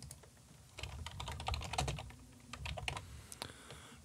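Keystrokes on a computer keyboard while entering a query into the Windows search box, an irregular run of close, crisp clicks at moderate volume with no voice.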